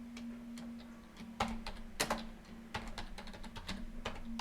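Irregular keystrokes on a computer keyboard, close and fairly crisp, with bursts of quick taps and a few heavier strokes over a steady low hum.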